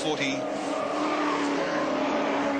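Race car engines at the 1981 Bathurst race start, including a Camaro, whine at high pitch, sustained and loud, with a commentator talking over the continuous roar.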